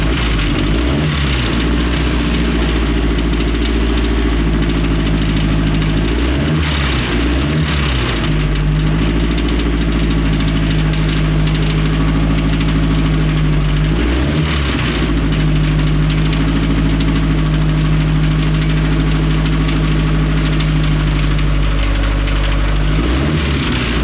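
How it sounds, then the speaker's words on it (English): A 1932 dirt track speedster race car with a Ford Model A overhead valve conversion engine and a big 4-inch exhaust idles loudly with a lumpy, uneven beat, broken by three sharp revs that rise and fall back to idle. "this 1932 dirt track speedster race car powered by a Ford Model A overhead valve conversion engine"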